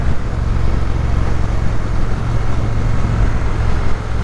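A Triumph Bonneville T120 engine pulls under acceleration, a loud, steady low rumble heard while riding, blended with heavy wind rush across the whole stretch.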